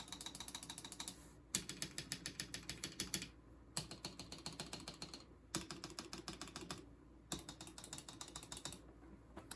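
A custom mechanical keyboard with lubed switches and an FR4 plate is typed on in quick bursts of crisp, rapid clacking, with short pauses between runs, close and clear.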